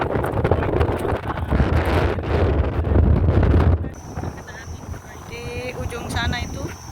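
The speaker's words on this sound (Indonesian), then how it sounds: "di tempat wisata Drini Park ini hembusan anginnya terasa kencang sekali, teman-teman, karena berada di kawasan pantai" Strong coastal wind at Drini Park beach buffets the microphone in loud, gusty roars for nearly four seconds, then drops away suddenly, leaving quieter surroundings with faint background sounds.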